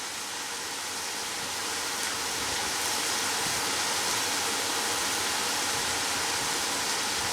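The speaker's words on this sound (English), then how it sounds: "You can also hear my heat running in the background." A steady, broad rushing hiss of forced air from a heating system runs unbroken and fairly loud throughout, with no voices.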